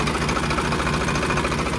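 A Farmtrac 60 PowerMaxx tractor with a 55 horsepower three-cylinder engine runs steadily at close range with a dense, even rumble and no pauses.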